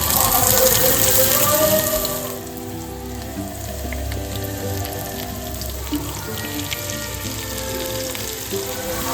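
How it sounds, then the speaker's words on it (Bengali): Chopped onions dropped into hot refined oil for Bengali aloo chop, a loud sizzle at first that settles into a steady, close frying crackle with faint background noise. "তেলটা গরম হয়ে গেছে এর মধ্যে আমি এরম পেঁয়াজ কুচিয়ে রেখেছিলাম এই পেঁয়াজটা দিয়ে দেবো"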